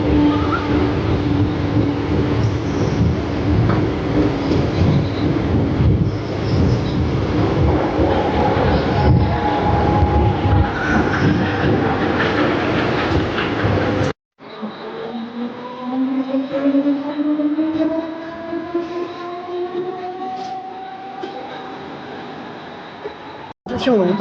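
A suburban train pulls into Kharghar railway station, loud rolling rumble and clatter for the first half, then a quieter stretch of rising and falling brake squeals as it slows, with voices talking over it.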